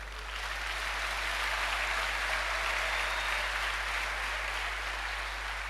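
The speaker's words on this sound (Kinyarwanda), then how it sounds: "mumpera Imana amashyi." A church congregation applauds together in a sustained, even wash of clapping that holds steady throughout, with a faint low hum underneath.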